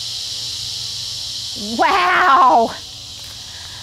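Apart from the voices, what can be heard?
cicadas buzzing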